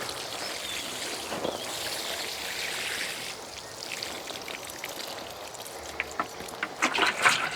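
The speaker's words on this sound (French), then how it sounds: "Et là, je vais arroser." Water pours over tomato cuttings planted in soil beside the tomato plants, a continuous splashing trickle that rises and falls, with sharper drips and spatters toward the end.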